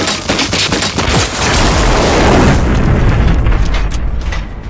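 A shield generator is blown up in the Generation Zero video game, with a loud, sustained rumbling blast and crackling debris that swell to a peak midway and then slowly fade, layered over a dense roar of noise.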